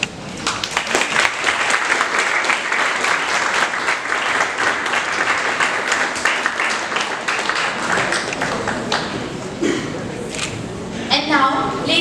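Sustained applause from a crowd at a school magazine launch, dense clapping that continues throughout and thins slightly toward the end.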